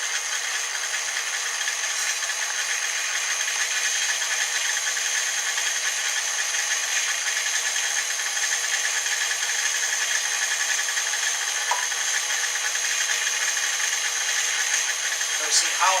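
Electric sausage grinder running steadily, pushing jalapeno cheddar sausage through with its grinding plate and blade removed; a constant loud motor whine and rattle fills the whole stretch with no break.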